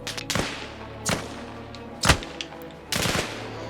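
Gunfire in the combat video game Arma Reforger: four sharp, loud shots or short bursts spaced about a second apart, each with a booming tail, with no talking.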